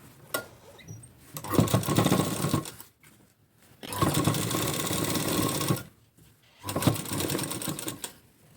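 Sewing machine stitching a blouse in three steady bursts of rapid mechanical whirring, each a couple of seconds long, separated by short quiet pauses.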